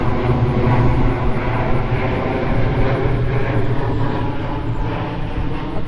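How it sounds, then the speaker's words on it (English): A Lockheed C-130 flies overhead, its loud, steady propeller drone filling the air throughout with little change in level and no voices over it. "we got another C-130 coming that may drown us out in a minute"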